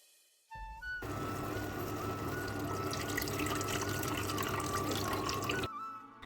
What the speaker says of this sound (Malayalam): പുളിയുടെ ആ വെള്ളം അങ്ങോട്ട് ചേർത്ത് കൊടുക്കുക